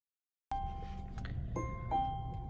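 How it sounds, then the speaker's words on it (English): Start-up chime of a 2020 Volvo S60 T6 AWD R-Design: a short sequence of soft bell-like tones, each ringing on and overlapping the next, over a low cabin hum, with no talk. "So that's the signature Volvo chime."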